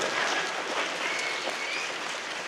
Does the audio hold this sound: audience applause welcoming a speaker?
yes